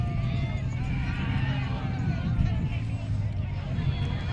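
Water buffalo (carabao) running in a street race, a dull rhythmic thudding of hooves mixed with crowd murmur and a voice talking over it.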